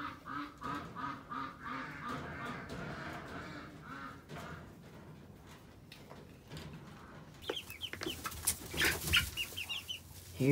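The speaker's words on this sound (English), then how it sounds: "Here's the chicks. They're getting very big." Large, well-grown chicks cluck and chirp nearby in a steady stream of short fowl calls, growing busier and louder toward the end, with no talking.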